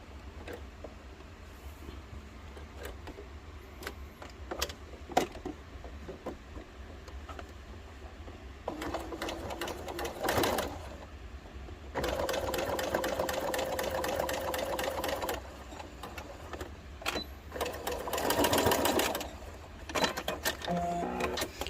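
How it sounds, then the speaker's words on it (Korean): A sewing machine stitching the seam of a V-neck home dress, running in close, loud bursts of rapid mechanical whirring separated by pauses and fabric handling, with no talk. "여기서부터 이렇게 바느질 여기를 할 거예요"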